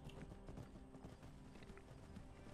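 Quiet horse hooves beating steadily during a ride in Skyrim, a continuous rhythmic clatter with no talking.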